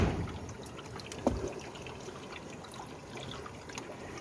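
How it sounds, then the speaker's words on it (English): Water trickling and dripping in a DIY aquarium breeding setup with a fry egg tray, a soft continuous trickle with one brief louder drip, fairly close. "That's just dripping down."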